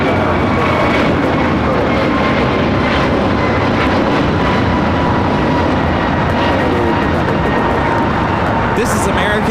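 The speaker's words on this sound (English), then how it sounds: "This is American Airlines 2882 taking off to Dallas Fort Worth on the A321neo." An American Airlines Airbus A321neo jet roars on its takeoff roll at LAX, loud and close, with a broad, steady engine rumble filling the whole stretch and a faint rising whine near the end.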